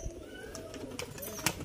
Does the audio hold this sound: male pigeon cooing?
yes